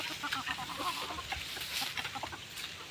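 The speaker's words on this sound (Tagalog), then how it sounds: "unti-unti na ulit dumadami ang ating mga manok" Chickens clucking steadily, several birds at close range with overlapping short calls over a constant farmyard background hiss.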